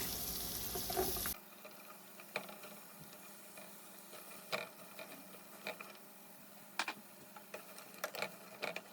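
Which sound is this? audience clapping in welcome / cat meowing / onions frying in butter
onions frying in butter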